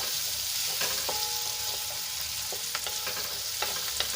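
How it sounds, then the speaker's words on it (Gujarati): Sliced onions sizzling in oil for a homemade pizza topping, a steady soft frying hiss with occasional spoon taps and scrapes as they are stirred, no voices. "ડુંગળીને આપણે સરસ રીતે તેલમાં મિક્સ કરીને એને આપણે સોફ્ટ થવા દઈશું"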